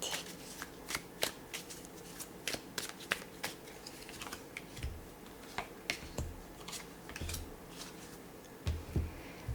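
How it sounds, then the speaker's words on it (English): Tarot cards are shuffled up close at a soft, intimate level, with a series of crisp riffles, slaps and flicks coming in uneven bursts, and no talking. "Let's draw some tarot cards for you now."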